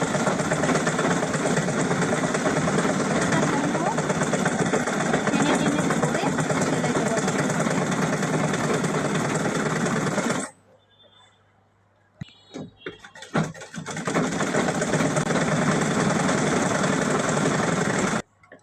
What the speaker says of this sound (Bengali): এটাকে আরেকটা রাউন্ড সেলাই দিয়ে দেবো